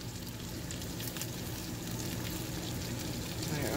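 Sausage and cabbage cooking in a pan, giving a steady, soft sizzle and low bubbling that runs evenly throughout with no voices.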